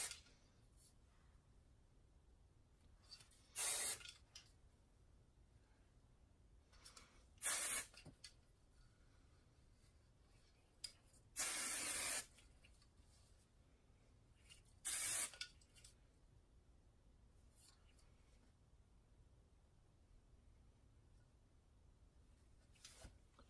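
Short bursts of hairspray hiss close by, four or five quick sprays separated by quiet pauses.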